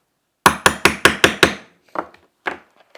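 A hammer drives a cork in with six quick, sharp, evenly spaced strikes, followed by a few softer, scattered taps after a brief pause, close-up and without any voices.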